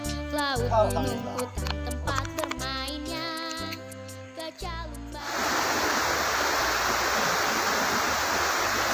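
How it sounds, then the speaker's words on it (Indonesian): Curug Ciputer waterfall on Mount Salak: a steady, broad rushing of falling water starts abruptly midway and carries on evenly after a passage of music. "di air terjun"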